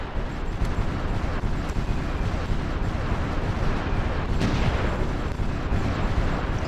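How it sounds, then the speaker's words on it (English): Artillery fire in the strategy game Supreme Ruler Ultimate, a dense, continuous rumble of booms and bursts at steady loudness, with a slightly heavier blast partway through. "Okay, the artillery actually stopped that engineer for a little bit."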